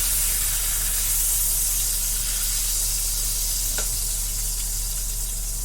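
Sausage sizzles in a pan just after the heat is turned off, a soft, steady hiss and crackle with a faint clink partway through.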